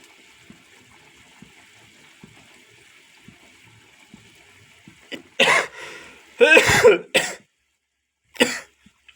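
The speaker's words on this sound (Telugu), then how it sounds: "దగ్గు ఘాటు లేపింది చేపల కూర" Three loud coughing fits, the middle one longest, caused by pungent fumes from a fish curry being cooked, following a stretch of faint background clatter.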